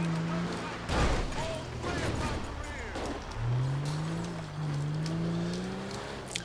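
Heavy armored personnel carrier engine in GTA 5 rumbling as it drives, its low drone rising and falling with throttle, with someone talking over it.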